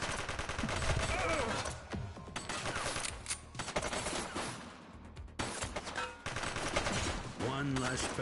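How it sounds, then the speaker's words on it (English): Gunfire in the police video game The Precinct, a long stretch of loud, rapid shots and volleys mixed with other game noise, with a few brief lulls in between. "He's shooting!"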